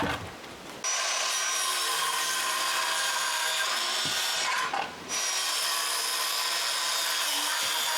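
Wooden pieces are cut by a saw for the back wall of a cabin shelter, producing a loud, continuous rasping drone that dips briefly midway and then carries on without voices.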